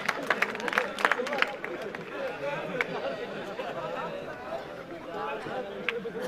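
Crowd applause and chatter from an audience at a school annual function, steady clapping and babble sustained throughout at moderate volume.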